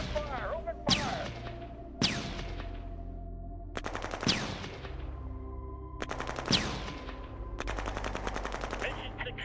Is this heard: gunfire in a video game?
yes